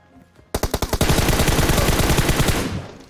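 Automatic gunfire in the mobile battle-royale game PUBG Mobile: after a quiet moment, a few spaced shots quickly become a loud, continuous rapid burst lasting about two seconds before cutting off.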